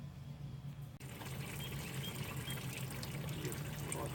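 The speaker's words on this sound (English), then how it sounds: "When we take off this lower radiator hose, it will spew antifreeze." Antifreeze pours from a Jeep Cherokee's lower radiator hose into a bucket as a continuous, faint splashing stream of liquid.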